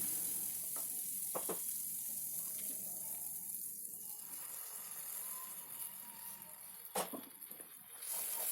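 Ground paste hits hot oil in a pan with a continuous hiss and sizzle, broken by a few sharp spoon taps and scrapes, one louder clatter near the end.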